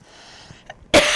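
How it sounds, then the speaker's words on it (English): A woman coughs once near the end, a short loud close burst after a quiet stretch with faint background sounds. "Sorry for coughing in your ears."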